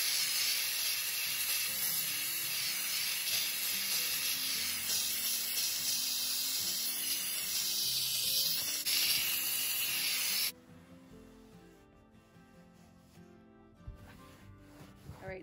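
A Bissell SteamShot handheld steam cleaner hisses loudly and steadily against dirty baseboards for about ten seconds, then cuts off abruptly, leaving quieter handling noises and faint clicks.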